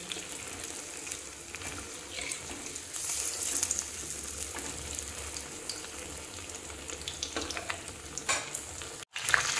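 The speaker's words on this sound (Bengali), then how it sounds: "এই যে দেখেন এইভাবে আমি এখন তেলটা উপরে দিয়ে দিচ্ছি। ব্রেডটা আমি উল্টিয়ে দেব।" Cheese bread pakora frying in hot oil, a steady close sizzle running throughout, with brief stirring and scraping sounds and a short sharp break near the end.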